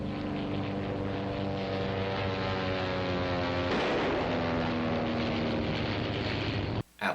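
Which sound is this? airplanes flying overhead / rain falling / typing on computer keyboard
airplanes flying overhead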